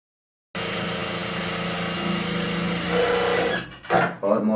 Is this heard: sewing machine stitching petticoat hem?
yes